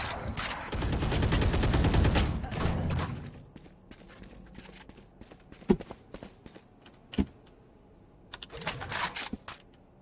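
Gunfire from shooting at enemies in Valorant, a dense burst of rapid shots at first, then scattered single shots and clicks with quieter gaps and a short final flurry.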